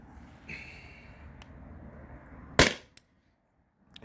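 A CO2-powered salt gun fed from a full 20 oz CO2 tank fires one sharp, loud crack after a quiet stretch with a faint hiss, followed by a small click and near silence.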